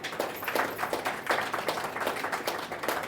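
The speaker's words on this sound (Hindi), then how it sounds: "ताली तो बजाओ।" A small crowd at a yoga talk in Kombadpada, Bhiwandi, Mumbai, claps on request, a steady patter of many hands sustained throughout, moderately near and without speech.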